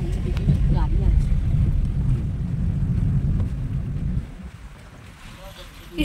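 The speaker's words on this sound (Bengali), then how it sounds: "কি সুন্দর বাতাস বয়" Wind gusts buffet the microphone on a hilly mountain road in the Dooars, a steady low rumble that drops away near the end before a brief swell returns.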